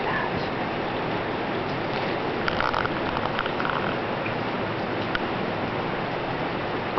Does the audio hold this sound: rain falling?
yes